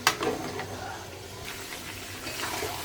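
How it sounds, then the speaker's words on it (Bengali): Water is poured into a pot of fried rice and lentils for khichuri, making a steady rushing splash that fills the space continuously, close and moderately loud after a sharper initial gush. "এখন দিয়ে দিব পরিমাণ মতো পানি।"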